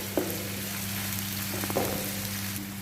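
Onion with garlic and ginger paste fries in oil for a dhaba-style egg masala, giving a steady soft sizzle with faint crackles and a couple of light stirring taps, close and continuous without talk.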